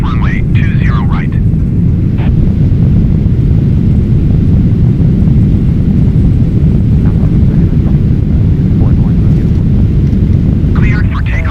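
Boeing 777-300ER jet taking off from a Singapore runway on a cloudy day, a loud, steady engine roar with wind rumble throughout, while brief voices come through near the start and end.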